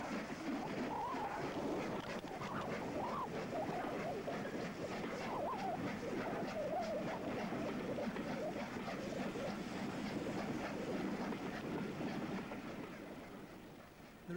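A Class O2 steam locomotive hauls a train on the Isle of Wight in 1966, its carriages rattling and rumbling steadily along the track at moderate level before fading slightly at the end.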